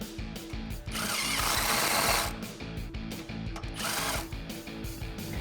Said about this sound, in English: we can tighten down the lower bolt using a 16 millimeter socket